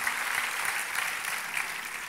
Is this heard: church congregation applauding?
yes